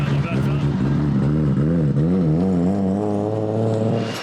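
A Nissan R32 GT-R with a custom 4-inch titanium exhaust on a drag strip run, loud and close, its engine droning hard with rising and falling pitch as it accelerates and shifts gears.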